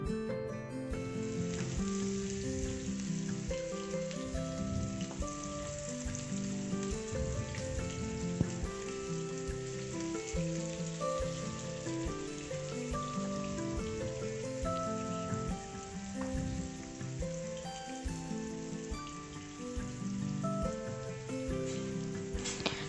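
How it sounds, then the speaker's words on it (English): Fish pieces fry steadily in about a quarter cup of hot oil in a pan for a South Indian fish fry, a dense, continuous crackling sizzle heard close and unbroken with no talk. "once oil is hot, we can add our fish pieces into the oil"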